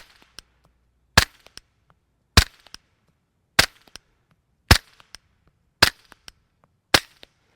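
Six suppressed 9mm pistol shots through a Rugged Obsidian 9 suppressor firing Freedom Munitions Hush ammo, each a sharp close pop followed by a faint clink, spaced about a second apart in a quiet setting.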